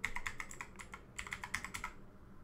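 Quick keystrokes on a computer keyboard, two short bursts of crisp clicks, close and fairly quiet, with a brief pause between them.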